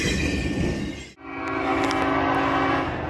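Loud freight train with SD60E locomotives passing close by, a steady heavy rumble and rolling wheel noise with a sustained horn-like tone; a brief dip in the roar occurs as the lead units go by.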